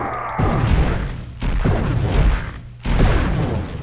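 Three loud, booming magical blasts from the Mage's Blood Scourge super weapon in the video game Hexen, fired in quick succession with a whooshing rumble. Each burst swells and fades before the next, with no speech.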